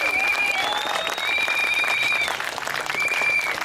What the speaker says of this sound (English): So a big round of applause and well done for every one of those.